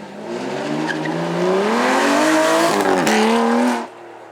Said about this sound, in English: now let's get our V12 Aston Martin back up.